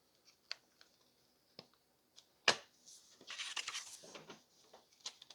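Scissors snip through paper while making ephemera for a garden journal, with a few sharp isolated cuts followed by a denser burst of rustling snips, close and moderately quiet.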